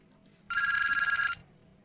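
A telephone bell rings once in a single bright, rapidly trilling burst just under a second long, close and loud against a quiet room.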